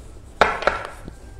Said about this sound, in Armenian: բաժանում ենք փոքրիկ խորանարդիկների